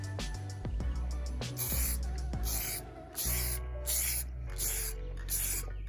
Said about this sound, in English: this one seems to be spraying correctly